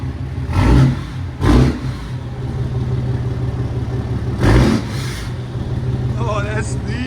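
A 2015 RAM 3500 pickup with a Cummins 6.7L diesel and 4-inch straight pipes rumbles at idle, with three short, loud revs breaking the steady drone and people talking over it.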